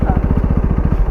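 A KTM Duke 390 single-cylinder motorcycle engine putters nearby in fast, even low pulses, idling steadily with a rough, throbbing beat over a short stretch.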